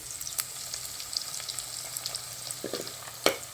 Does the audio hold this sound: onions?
yes